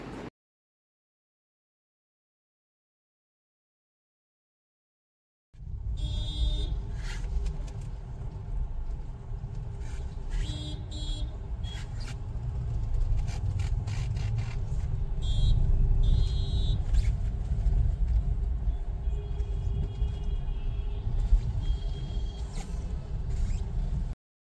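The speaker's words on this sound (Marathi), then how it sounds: "तिथेही खूप ट्रॅफिक दिसते. तिथूनही बऱ्याच गाड्या जाताना दिसत आहेत." Busy road traffic on the way to the Mahakumbh at Prayagraj begins after several seconds of silence: a steady low engine rumble of many passing vehicles, with scattered horn toots and beeps above it, close and continuous.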